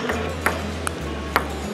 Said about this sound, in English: We're gonna play a little cell phone ping pong.